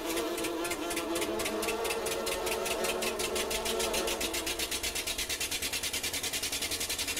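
A Fortschritt ZT 174/2B tractor engine in Farming Simulator 19 chugs steadily while starting, a loud continuous diesel rumble with rapid regular pulses that settle into an even rhythmic beat.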